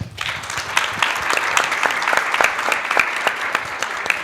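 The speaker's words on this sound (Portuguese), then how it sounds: "Eu posso pedir uma salva de palmas" An audience at a ZF trade-show talk at Automec 2025 gives a round of applause for an audience member named Marco Antônio. Sustained, fairly dense clapping carries at a moderate level, with individual sharp claps standing out near the listener.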